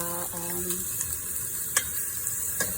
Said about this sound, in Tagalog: inuuna yung onion na gisahin